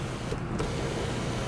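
Inside a 2006 Chevrolet Monte Carlo, the power sunroof motor whines steadily, broken by a brief click partway through.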